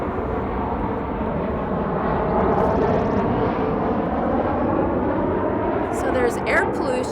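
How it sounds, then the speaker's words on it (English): Loud, steady roar of an airplane passing overhead, a broad engine rumble that holds for several seconds, with a few brief higher sounds near the end. "Oh, and there's the plane"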